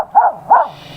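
A dog on a wharf lets out two quick barks close by, the second slightly louder, with a brief pause between them.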